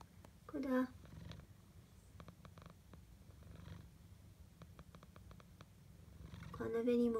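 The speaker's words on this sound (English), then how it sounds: "You purring." A cat purrs softly and steadily up close, its low rhythmic rumble running under brief bursts of a person talking.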